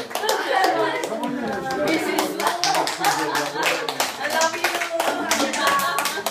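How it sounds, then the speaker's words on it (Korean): Audience clapping at a literary society's monthly meeting, a dense patter of many hands that runs steadily throughout, with voices talking underneath. "우리 그 미세스 의원한테 박수 한번 쳐야지."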